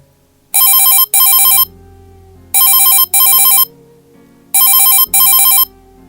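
A telephone rings as a sound effect in a horror radio story, three loud paired bursts of an electronic ring separated by short pauses.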